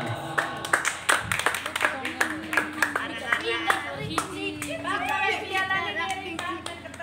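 Applause at a graduation trophy ceremony at an Islamic school, steady clapping from a gathered group with children chattering and speaking over it, continuing throughout.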